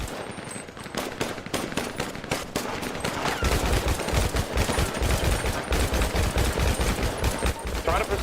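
Rapid automatic gunfire in a GTA roleplay shootout, dense bursts and single shots crackling continuously and loudly, thickening into near-constant fire in the second half, with brief voices under it.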